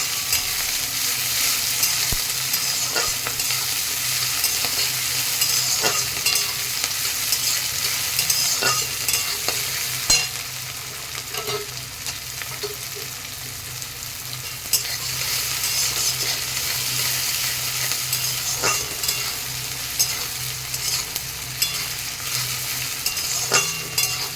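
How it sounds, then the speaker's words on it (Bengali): Chopped onions frying in a pan for a goat meat curry: a loud continuous sizzle with occasional clicks and scrapes of a spoon stirring, close and alone. "কুচানো পেঁয়াজ পেঁয়াজটাকেও খুব ভালো করে ভেজে নেবো"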